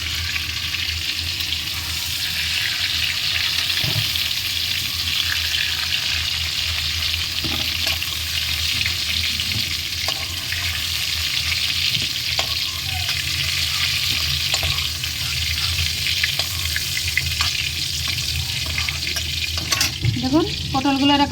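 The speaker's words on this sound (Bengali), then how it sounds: "পটলগুলো আমি লাল লাল করে ভেজে নিয়েছি" Pointed gourd (potol) fries in hot oil in a pan, giving a steady, loud, close sizzle throughout with occasional stirring scrapes and clinks.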